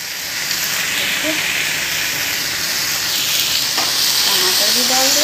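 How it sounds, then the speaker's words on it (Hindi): Chopped tomatoes frying in a hot pan for a quick pasta sauce give off a steady, close sizzle and hiss throughout, with a few faint clinks. "टमाटर भी डाल दिया है"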